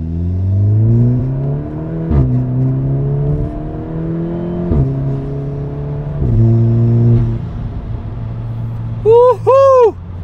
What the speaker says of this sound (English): those are the Burbles sounds, guys, from different RPM range